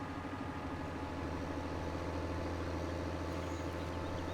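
A tractor engine idles in Farming Simulator 2017 with a steady, low, even rumble, continuous and unchanging, fairly quiet and alone without talk.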